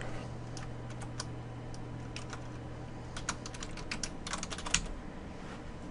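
Steady typing on a computer keyboard plays close and clear, with irregular bursts of keystrokes that thicken toward the end over a low steady hum, and no voice.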